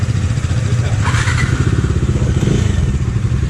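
A Bajaj Dominar 250 motorcycle rides off, its engine a steady, loud, close rumble that holds firm throughout with a brief clatter partway through and no talk.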